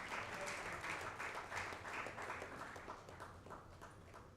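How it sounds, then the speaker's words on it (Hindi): An awards show audience applauds to welcome a guest, a dense wash of many hands clapping at a steady level from a slightly distant room, easing off a little toward the end. "प्लीज़ ज़ोरदार तालियां"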